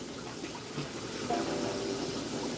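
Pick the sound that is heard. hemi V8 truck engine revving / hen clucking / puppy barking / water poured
water poured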